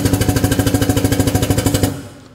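An ATEX power clamp drum tipper clamps a steel 200 litre drum, giving a loud, rapid mechanical hammering buzz of regular pulses for about two seconds before it stops abruptly.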